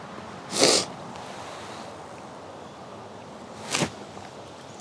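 Two sharp, close nasal sniffs from a person with a stuffed-up nose from flu, out in the woods, separated by a few seconds of quiet outdoor background with no talking.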